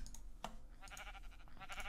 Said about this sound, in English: I'll kill some of these sheep.